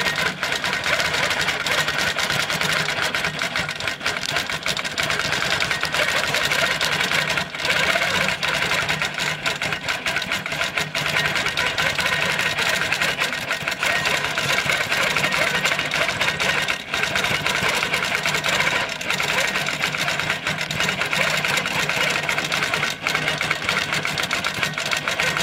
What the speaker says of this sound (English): I'm working with the Amara 20-inch throat with the Pro Stitcher Premium.